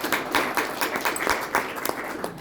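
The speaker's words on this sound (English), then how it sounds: "Okay, so big round of applause." A small group claps in a short round of applause, uneven individual claps with a few louder spikes, close and moderately loud.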